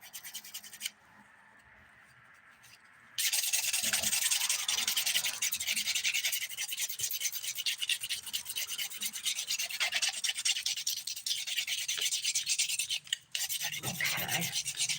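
A 100 grit nail file rasps across dip powder nails in quick, close, repeated scratching strokes, with a short pause before the filing starts in earnest.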